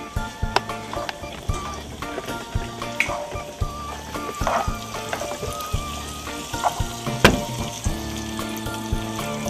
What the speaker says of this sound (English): and then we're gonna stir all that up